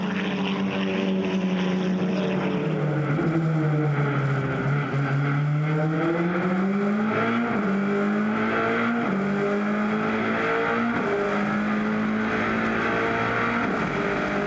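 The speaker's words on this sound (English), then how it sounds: "That Audi sounding smooth and mean." An Audi race car engine howls at Zwartkops Raceway, heard from onboard during a GTC race, loud and continuous with rising and falling pitch through gear changes and corners.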